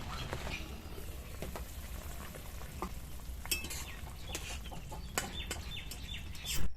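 Potatoes sauté in a pan for a pumpkin and prawn curry, with a moderate sizzle under repeated stirring and scraping sounds.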